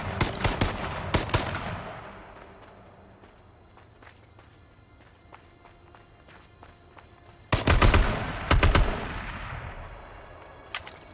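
Gunfire in the video game H1Z1 comes in two loud, close bursts of rapid shots at the start and again later, separated by a quieter stretch of faint in-game footsteps and small clicks.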